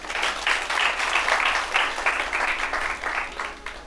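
A church congregation applauds for a sister during a Sunday service, a steady, dense burst of clapping from many hands that holds at even strength throughout.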